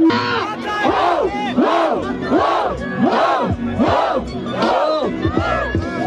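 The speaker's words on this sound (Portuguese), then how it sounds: "Barulho para as rimas do André!" A large crowd at a rap battle roars and shouts in a loud, pulsing rhythm, rising and falling in repeated waves of noise.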